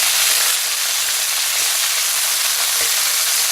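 Beef chunks browning in a frying pan for a Tuscan beef stew, giving a steady, close, even sizzle and fry hiss throughout with no talking.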